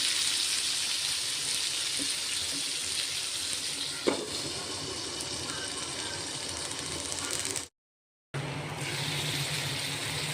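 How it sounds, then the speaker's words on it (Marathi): Stuffed ridge gourd cooks in a pan on low heat. It gives a steady, soft sizzle and bubbling throughout, with one brief click and a short full silence near the end. "खूप छान शिजतायत आपले गिलके"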